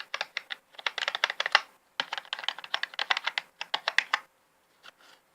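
Keys on an old Philips PC keyboard pressed in quick, uneven bursts of clicky taps, close and fairly loud, with a short pause midway and a few faint taps at the end.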